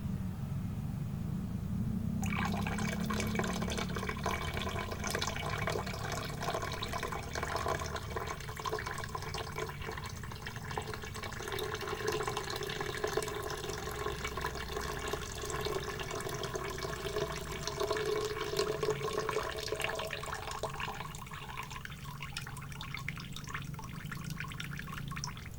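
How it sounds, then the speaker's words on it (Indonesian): Water poured out of a container holding settled gold-bearing sediment, a steady continuous splashing pour lasting about twenty seconds, fairly close, with no talk over it. "Kita tumpahkan airnya dulu."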